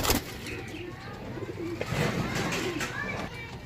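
Soft cooing from pigeons mixed with scattered chirps, heard beneath people talking, with background outdoor noise throughout.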